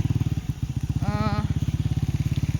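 A motorcycle engine idles close by with a steady, fast putter, a brief whine rising over it midway, on a road with drainage ditches.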